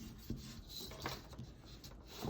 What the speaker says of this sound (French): pour le Sharingan, faut bien gommer tout le crayon qu'on a